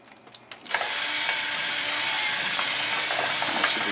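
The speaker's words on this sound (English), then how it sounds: "Keep on drilling it up." A continuous, loud broadband whirring of a power tool running steadily for several seconds after a brief quiet start, with no talking.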